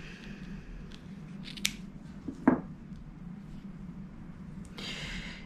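Scissors snip once, then a brief squishy snip follows, as surplus acrylic crochet yarn is trimmed after knotting a small hedgehog amigurumi; close and quiet against a low hum, with a rustle near the end.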